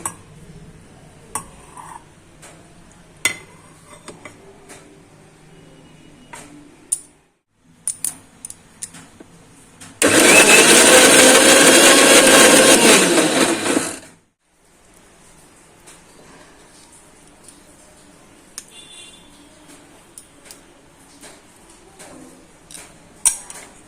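Shrimp is ground into a paste in one loud, continuous burst lasting about four seconds, with soft kitchen clinks and taps before and after.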